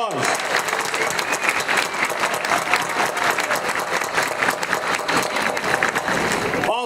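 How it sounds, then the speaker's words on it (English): Crowd at a D-Day anniversary parade in Ipswich, Massachusetts, applauding a Brigadier General: dense, steady outdoor clapping at moderate loudness, with scattered voices underneath. "Let's give her a round of applause."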